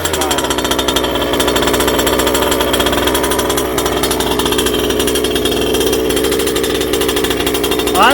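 A Kraken Vekta.5 RC car's gas engine idles during break-in, a loud, steady buzzing rattle that holds a constant pitch close by, rising slightly at the very end.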